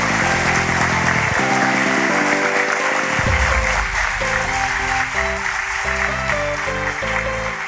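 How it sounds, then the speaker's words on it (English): Audience applause after a university lecture, dense, loud clapping that runs unbroken throughout over a backdrop of steady tonal sound. "Okay, so a big round of applause for Professor Vaish."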